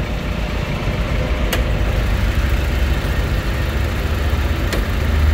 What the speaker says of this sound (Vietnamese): Anh em trải nghiệm vô phần động cơ khoang máy nè.